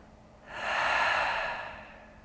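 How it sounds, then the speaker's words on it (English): A slow, deep breath during a guided relaxation exercise, one long airy inhale or exhale swelling and fading over about a second and a half, close and soft with no talking. "Just feel that sink in, that lowering, that deepening of your breathing"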